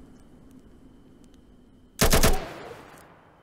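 A rapid, loud burst of automatic gunfire from the ATOM RPG video game rings out suddenly after a quiet stretch, about half a second of shots followed by a short echoing tail.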